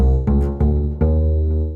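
An acoustic bass sample plays alone, three deep plucked notes following one another, each ringing and fading a little before the next, warm and close.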